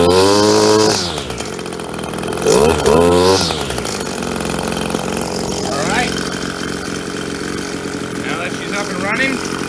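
An Echo SRM-260 string trimmer's small two-stroke engine runs close by, revving up sharply a few times then settling into a steady buzzing idle, with a person speaking briefly.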